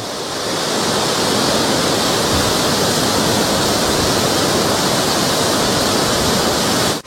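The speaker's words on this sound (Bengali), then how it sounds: "সাঙ্গে সাঙ্গে ওয়াটারফল, জলের ছিটা লাগছে ভীষণ" Changey Waterfall in Pelling roars as a steady, loud, broadband rush of falling and spraying water, constant and close throughout with no voices.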